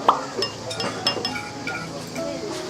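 Beer glasses clink together in a toast, a few bright, close taps under a murmur of voices.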